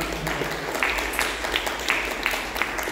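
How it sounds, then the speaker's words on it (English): An audience applauds, rapid mixed clapping with a few louder hand claps standing out, spread over a muffled hall with a low background rumble. "Can we give a big round of applause?"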